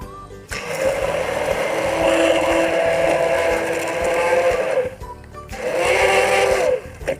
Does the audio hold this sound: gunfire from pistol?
no